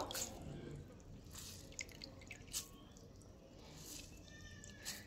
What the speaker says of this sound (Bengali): এবার আমি জল থেকে এইভাবে চিপে চিপে নিয়ে নেব।